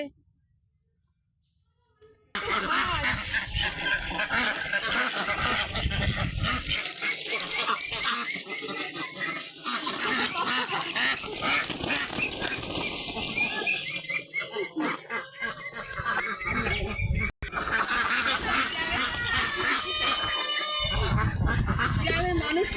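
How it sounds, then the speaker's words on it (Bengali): Ducks and geese gathered at a village pond while feed is put out, a dense din of quacking and honking calls close by, with a voice and rustling mixed in, after a brief quiet opening. "পুকুর পাড়ে হাঁসের খাবার দিচ্ছে"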